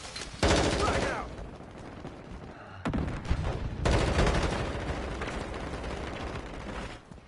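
Loud bursts of automatic gunfire in Call of Duty: Modern Warfare, dense rattling volleys separated by short pauses, sharp onsets cutting in close and heavy, with a faint voice briefly under the shooting.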